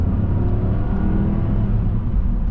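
A Porsche Cayenne Turbo 955 with a 4.5-litre V8 pulling hard in second gear, a loud steady low engine rumble heard from inside with no talk.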